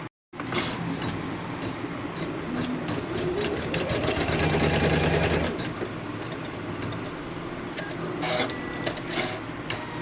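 A small sewing machine stitches net fabric in a fast, steady mechanical whir, starting abruptly, swelling slightly in the middle and running continuously and close.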